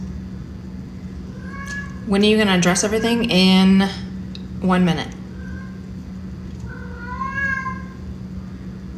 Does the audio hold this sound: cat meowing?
yes